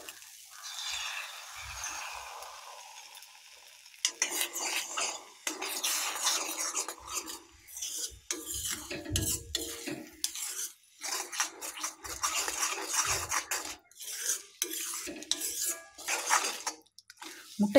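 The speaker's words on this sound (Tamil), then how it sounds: "முட்டையை போட்டுட்டு கிளறி விட்டுட்டே இருங்க" Egg is stirred together with drumstick flowers in a pan, with bursts of metal spatula scraping and clinking against the pan after a quieter start, close and moderately loud, with no talking.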